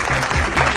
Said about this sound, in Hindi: तुम ये अप्लॉज डिजर्व करती हो